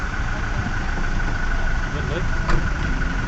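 A vehicle engine idles steadily and fairly loudly during a roadside stop, a constant low drone running the whole time with a brief bump near the middle, while people talk over it.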